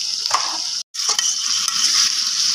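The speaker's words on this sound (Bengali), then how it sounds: "এইবার এই নুন হলুদটা দিয়ে ভালোভাবে কচুরলতিটাকে ভাজা ভাজা করা হচ্ছে" Taro stolons frying in a pan with salt and turmeric: a loud, continuous sizzle with scraping stir strokes, a brief gap partway through, then steady close-up frying again.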